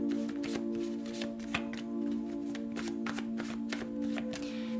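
A handmade tarot deck is shuffled continuously, its cards riffling and slapping in quick repeated bursts over a steady low hum, close and moderately loud with no voices.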